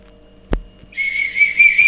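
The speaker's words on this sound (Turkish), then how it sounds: "İçinden kaşık çıktı. Böyle ıslık çıktı." A toy whistle from a snack package shrills steadily after a single sharp knock, loud and close, with no talk over it.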